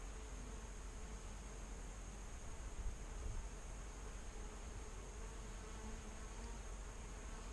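Faint honey bees hum around a split hive outdoors, a soft, continuous buzzing wash with a thin steady whine and no speech.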